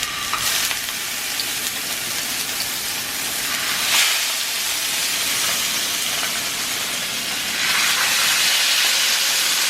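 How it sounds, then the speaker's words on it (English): A salmon fillet sears skin side down in hot olive oil, giving a loud, steady sizzle with occasional surges of crackling and hiss, close by and without talk. "I'm gonna go ahead and take our salmon fillet and put it skin side down"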